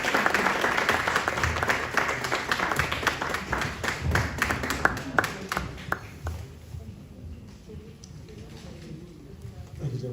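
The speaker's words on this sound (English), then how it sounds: "So give him a round of applause." Audience applause greets the mayor as he comes up at a panel event, dense clapping filling the first six seconds and then thinning to scattered claps and room murmur.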